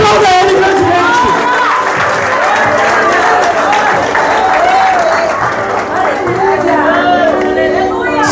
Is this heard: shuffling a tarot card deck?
no